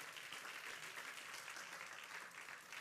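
A church congregation applauds together at a Spanish-language service. The clapping is dense and continuous, heard faint and distant, with a slight dip near the end.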